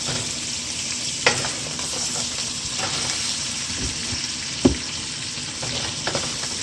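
Goat meat and okra fry in masala in a pan, a steady close sizzle with a spatula stirring and scraping now and then, a few sharper taps standing out over the continuous hiss.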